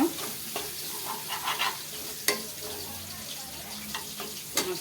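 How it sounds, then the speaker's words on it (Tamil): Masala being sautéed and stirred in a pan for crab gravy, with a soft steady sizzle and scattered spatula scrapes and clicks, fairly quiet and close throughout. "இப்போ இதை மசாலாலாம் போட்டுட்டு நல்லா வதக்கி விட்டுடலாம்."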